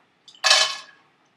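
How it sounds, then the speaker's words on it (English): A metal frying pan lid clinks lightly, then gives one brighter, ringing clatter that fades within a second; no voices. "if I grab the lid of a frying pan"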